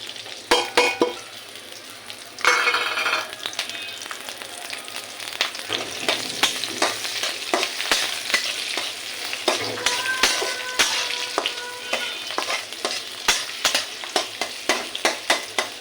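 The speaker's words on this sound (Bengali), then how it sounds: "পেঁয়াজটা একটু লাল করে ভেজে তারপরে আমি শাক দিয়ে দেবো।" Onion and green chili frying in a pan with oil, a steady broadband sizzle with bursts of stirring and spatula scrapes, close and fairly loud, no talking.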